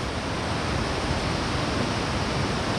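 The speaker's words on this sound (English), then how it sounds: "this is where you get the waterfalls" A waterfall on a small river beside a short hiking trail in a park, a steady, loud, unbroken roar of rushing water filling the whole clip with no voices.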